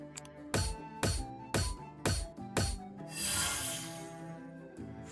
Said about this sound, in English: Sharpen their blades.